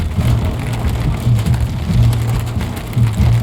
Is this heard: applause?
no